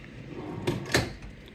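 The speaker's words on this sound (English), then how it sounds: "This is a big chest of drawers." Drawers of a large chest of drawers in a hotel room at a resort lodge sliding and bumping shut, two quick knocks close by in a quiet room.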